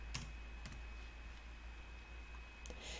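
A few sparse, faint key clicks from a computer keyboard as a font name is typed into a search box, with quiet pauses between them in a still room.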